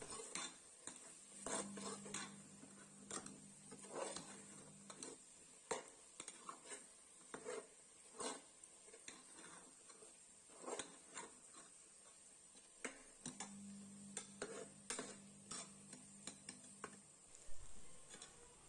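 Metal spoon scraping and tapping in a pan as chilli powder and coriander powder are stirred into rice bath, a quiet irregular series of clinks and scrapes with a faint steady hum underneath.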